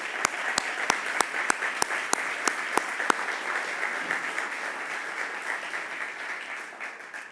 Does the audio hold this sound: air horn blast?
no